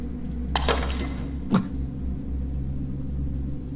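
Glass shatters twice in a horror video game. A bright crash with a tinkling spray is followed a second later by a shorter break, both over a steady low droning rumble.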